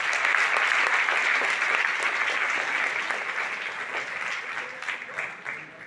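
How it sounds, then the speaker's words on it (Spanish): Strong applause from a live audience at a Hermanos Pancardo show, sustained clapping that stays loud for several seconds, then gradually thins out toward the end. "Tiene un aplauso fuerte."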